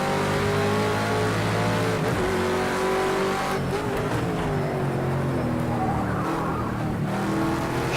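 Race car in Project Cars 2 spinning out during a BMW endurance race: a loud, sustained engine drone with shifting pitch, mixed with tire squeal and skidding noise throughout.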